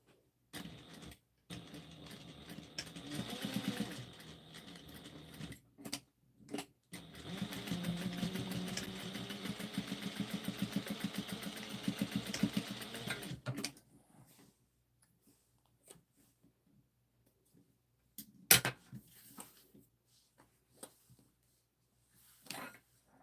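A sewing machine stitches a quarter-inch seam on a Halloween trick-or-treat basket, backstitching at the start and finish: short whirring runs, then a long steady run, followed by a few isolated clicks and knocks.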